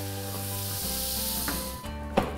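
Butter sizzles and hisses in a very hot pan for a Dutch baby pancake, a steady crackling fry over a low electrical hum, with a couple of soft clinks.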